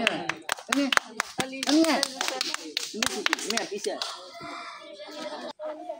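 Scattered hand clapping from a small crowd for a prize winner at an outdoor bottle-matching challenge game, sharp irregular claps over talking voices and a voice.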